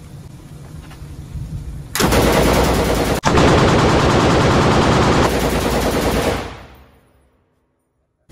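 M60 machine gun, likely game-simulated, unleashing a long, loud sustained burst at a sign, with a brief break, rapid continuous reports, then trailing off into silence.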